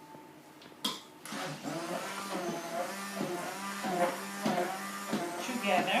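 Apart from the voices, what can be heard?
blender mixing flour and baking powder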